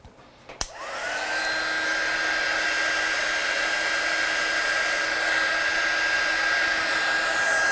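A hair dryer switches on after a brief clunk and then blows in a steady, loud whirring drone while drying watercolour paint on a stamped Christmas card, with no talking.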